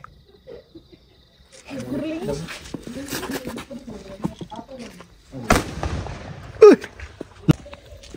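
A few sharp, loud pops ring out close by from a firecracker toy gun during a celebration, separated by pauses, with people talking between them.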